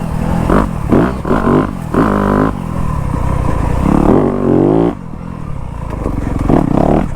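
Yamaha YZ250F four-stroke dirt bike engine, loud and close, revving in repeated bursts with rising and falling pitch, along with clattering and scraping from the ride.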